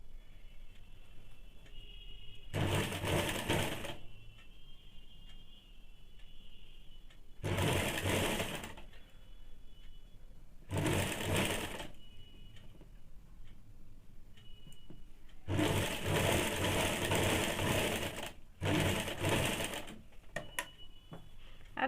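A sewing machine stitches a high-neck blouse in five distinct bursts of rapid mechanical whirring, each a second or two long, separated by quiet pauses with a faint background hum, close and moderately loud, with no talking.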